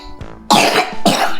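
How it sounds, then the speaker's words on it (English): Two close, harsh coughs come in quick succession after a brief intake of breath. "Got a little cough."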